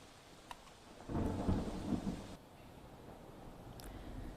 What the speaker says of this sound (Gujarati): ખેડૂતોને પણ ખુશી થાય તેવો વરસાદ પડી રહ્યો છે